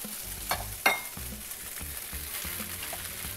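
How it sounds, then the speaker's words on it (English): Mushrooms hit a hot pan of lettuce-wrap filling and sauté with a soft, steady sizzle, broken by a couple of sharp utensil clinks and scraping stirs near the start. "we're going to saute this together now for about another 3 or 4 minutes"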